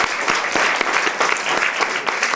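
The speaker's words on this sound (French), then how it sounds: "Courageuse, on l'applaudit." Studio audience at a live French talk show clapping steadily throughout, a dense, continuous round of applause with no voices on top.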